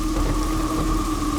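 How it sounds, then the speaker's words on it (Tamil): Heavy rain pouring steadily in a dense, even hiss, close and continuous, with a faint low rumble under it and a pair of constant tones running through. "ஐயோ இவ்வளவு மழை பெய்யுது."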